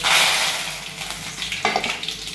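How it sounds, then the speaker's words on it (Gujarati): Mustard seeds, cumin, asafoetida and curry leaves hit hot oil in a home kitchen, giving a bright hissing sizzle that eases off and is broken by sharp crackles and pops. "પહેલાં આપણે રાઈ નાખી દઈએ જીરું નાખી દઈએ પછી હિંગ નાખી દઈએ પછી નાખી દઈએ લીમડો"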